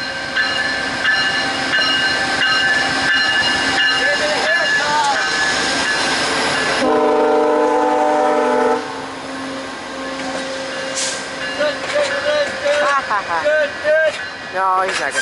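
A VIA Rail passenger train rumbles and screeches along the rails, loud and close, with a horn-like tone midway and people talking over the noise.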